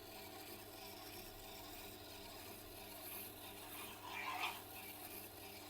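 Knife back being polished on a Tormek sharpener, giving a continuous close rubbing, grinding hiss with a steady motor hum beneath and a brief harsher scrape near the end.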